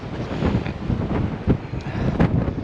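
Steady, blustery strong wind in London buffets the microphone throughout, a continuous rumbling roar with occasional stronger gusts.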